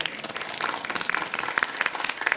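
Attendees at an audit committee meeting applaud the finance team, a modest round of scattered hand claps, fairly faint and steady for a couple of seconds.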